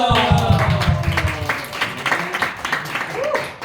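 Church youth-group congregation at a winter retreat applauding to welcome a member, a rolling wash of clapping mixed with voices and a few sung or spoken tones.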